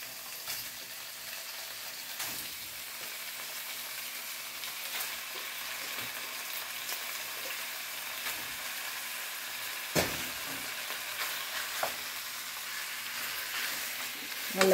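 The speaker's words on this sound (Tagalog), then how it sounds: "Haluin lang natin ng mabuti hanggang mag-light brown ang ating karne." Pork spareribs sizzling in a pan over softened onion and garlic, a steady crackling fry with occasional scraping stir strokes and one sharp clank, no talk.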